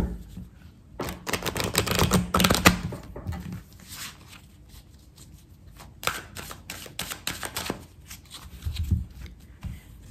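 Tarot cards being cut and shuffled during a weekend reading, a run of quick, crisp riffling bursts and soft flicks close by, loudest in the first few seconds, then scattered slaps and rustles.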